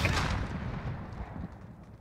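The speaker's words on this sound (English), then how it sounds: "That's a shotgun." Loud shotgun blasts in a night gun-game match of Call of Duty Modern Warfare, a heavy boom at the start followed by a rolling chaotic exchange of gunfire that stays dense and close throughout.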